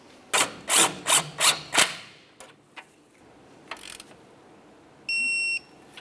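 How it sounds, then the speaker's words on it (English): A torque wrench ratchets a castle nut onto an outer tie rod stud of a 2009–2010 Pontiac Vibe, about five sharp clicking bursts followed by a few lighter taps and a short high electronic beep, no speech. "We'll bottom this out and then torque it to 36 foot-pounds."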